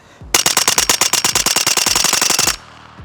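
A Scorpion Evo with a Nexus bearing-delayed conversion fires from a 40-round ETS magazine: one loud, rapid, evenly spaced burst of about two dozen shots, close, ending abruptly.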